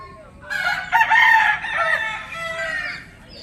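A rooster at a lakeside resort full of chickens and ducks crows loudly and close, a single long drawn-out call after a short pause, with faint clucking at the start and end over a quiet outdoor background.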